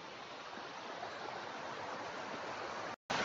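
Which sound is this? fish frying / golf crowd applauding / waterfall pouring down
waterfall pouring down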